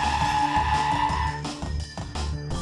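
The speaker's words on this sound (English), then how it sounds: "Full braking was done at 70 kilometers per hour. Without ABS, the vehicle takes longer to come to a complete halt." A Mahindra XUV 500 without ABS brakes hard from 70 km/h, its tires skidding with a loud, sustained squeal that wavers and breaks up as the vehicle slides to a halt.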